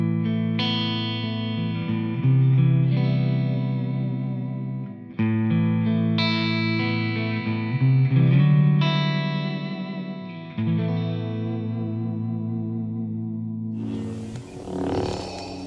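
Clean electric guitar chords through a Laney IRT-X cabinet ring out with long sustain, struck one after another with no added effects, loud and full, ending in a brief noisy scrape.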